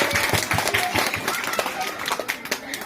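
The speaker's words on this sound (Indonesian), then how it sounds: "Tepuk tangan untuk kita semua." Audience applause at a children's Sunday school Christmas celebration in Wanam, steady clapping filling the room for a few seconds with speech mixed in over it.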